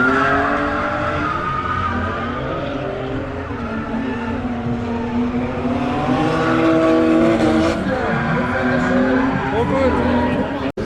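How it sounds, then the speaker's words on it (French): A drifting session at the Tuning World Bodensee tuning event: loud, sustained tire squeal and a roaring engine from a car sliding past, with people talking over it. "ça fait tellement longtemps que j'avais pas vu une session de drift."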